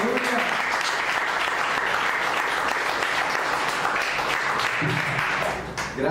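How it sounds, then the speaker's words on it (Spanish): A church congregation applauds steadily and loudly throughout, a dense wash of clapping with voices mixed in, easing slightly near the end. "Dale una ofrenda de palmas a Él"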